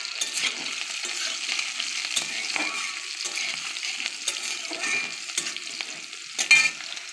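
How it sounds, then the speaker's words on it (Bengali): Green chillies and panch phoron spices frying in hot oil in a home kitchen, a steady close sizzle and crackle with occasional stirring scrapes and a brief clink near the end, no voices. "দেখো তেল গরম হয়ে গেছে, কাঁচা লঙ্কা দিয়ে দিয়েছি"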